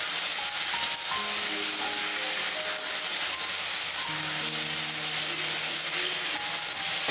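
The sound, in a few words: spices frying in a pan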